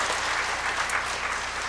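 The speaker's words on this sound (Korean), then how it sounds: "큰 박수 좀 보내주시죠" A church congregation at a mothers' prayer meeting claps steadily after a gospel song, a dense, even wash of applause without talk.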